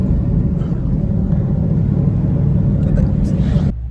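Low, steady engine and exhaust rumble from an SRT Jeep while driving, loud and continuous inside the cabin for nearly four seconds before dropping off abruptly near the end.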